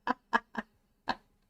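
A bird gives four short, harsh squawks, three in quick succession and a fourth after a pause, close and clear with no talk.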